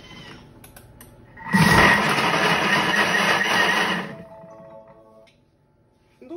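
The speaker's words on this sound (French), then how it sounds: "on va mixer 2 secondes à la vitesse 10" A Thermomix TM6 blends lemonade at maximum speed 10: after a few small clicks, a loud, dense roar starts abruptly and holds for about two and a half seconds, then cuts off and winds down into quiet clinks.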